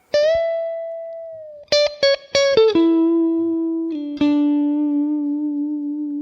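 Electric guitar on a clean tone plays the first solo of a song, sustained bent notes ringing out, a quick run of picked notes, then long held tones with gentle vibrato, close and alone.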